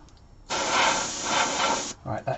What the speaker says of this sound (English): that could be me spraying green over the purple